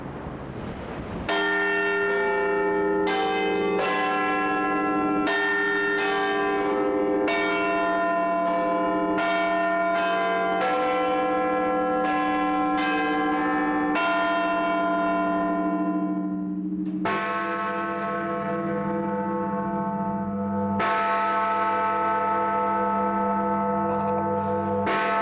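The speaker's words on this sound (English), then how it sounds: "The quarter bells first." Big Ben's quarter bells in the Westminster clock tower chime a slow sequence of resonant strikes, each ringing on and overlapping the next in a sustained, loud, reverberant peal.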